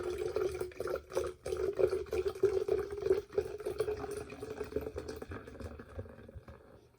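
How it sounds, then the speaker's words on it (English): Prosecco pours steadily into a 32-ounce pitcher for a pineapple mimosa, a continuous liquid splash and fill lasting several seconds with no talk over it. "Now we're going to pour the rest of the Prosecco to the 32 ounce."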